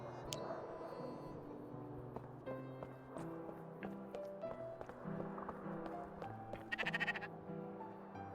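Sheep bleat repeatedly inside a video game, mixed with game music and other animal and footstep-like effects, moderately loud throughout with brief sharper cries near the end.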